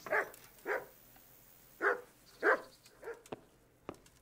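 A dog barks in the video game Kingdom Come: Deliverance, about six or seven sharp barks in an irregular rhythm, moderately near, with no talk over them.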